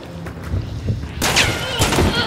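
Loud gunfire in the video game Hunt: Showdown: several sharp shots crack in quick succession, including a shotgun, with a heavier blast partway through and faint voices in the background.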